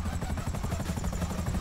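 Helicopter rotor thumping steadily in GTA V, a continuous rhythmic chop that fills the short clip at moderate loudness with no talk over it.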